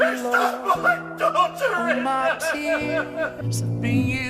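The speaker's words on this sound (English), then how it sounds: "I know that's the sound of him crying in slow-mo" A deep, drawn-out, wavering vocal sob, slowed so it sounds like a low growl. It rises and falls in pitch and carries on without a break.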